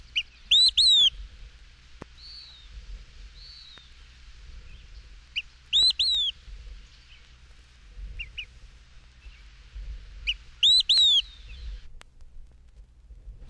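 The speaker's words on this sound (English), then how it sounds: "Olive-sided Flycatcher" An Olive-sided Flycatcher sings three loud, clear, emphatic whistled phrases spaced several seconds apart, with faint softer calls between them against a quiet outdoor background.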